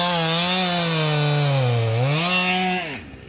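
A ported Husqvarna 395xp chainsaw with a 36 inch bar, felling big trees, whines loud and close at high revs with its pitch sagging as it bogs into the wood, then cuts off abruptly.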